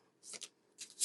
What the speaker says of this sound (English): So I just do this quick shuffle for anyone who's new